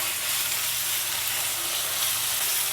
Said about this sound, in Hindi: अब इसे हम अच्छी तरह से भूनेंगे।